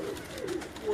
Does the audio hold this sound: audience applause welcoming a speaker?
no